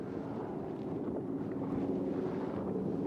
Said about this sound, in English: so many boats out here